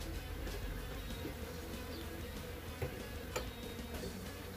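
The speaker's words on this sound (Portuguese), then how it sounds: "As abelhas aqui, eu vou tirar para lá na outra caixa." Faint, steady buzzing and humming of bees while they are shifted from one hive box to another, with a few soft clicks and knocks from handling the box.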